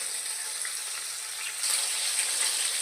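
Fish frying in hot oil for a Bengali shol fish kalia, a steady even sizzle that swells slightly louder partway through, close and continuous with no talking.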